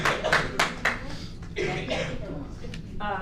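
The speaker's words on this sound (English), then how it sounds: "Just a reminder, we can't have clapping." A few scattered hand claps ring out from an audience at a board meeting, loud and sharp in the first second, then give way to people talking in the room.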